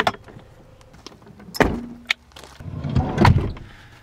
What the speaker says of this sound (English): Alright, so I shut the door